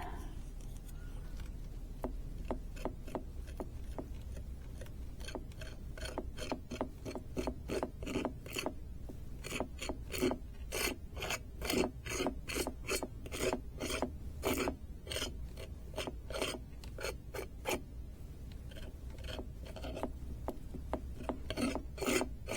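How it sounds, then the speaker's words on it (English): Cured resin is scraped along its sides with a tool, producing steady rhythmic rasping strokes, close and fairly loud, repeating for the whole stretch. "And then I'm going to have to scrape away at the sides."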